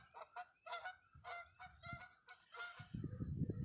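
Geese honking outdoors, a flock calling in repeated overlapping nasal honks at moderate distance, with rustling noise close by toward the end.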